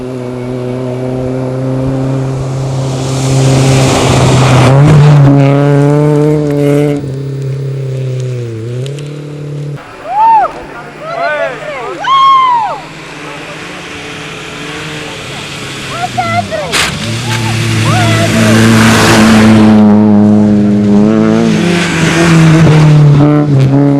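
A Citroen Saxo VTS rally car races on snow with loud engine revs that climb and fall through the gears. Sharp bursts and a brief lull come midway, and voices can be heard at times.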